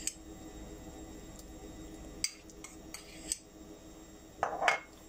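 A spoon clinks and scrapes against a bowl as peanut butter, cashew nut butter and honey go into porridge, with sparse sharp taps and a brief scooping rustle near the end, close and fairly quiet.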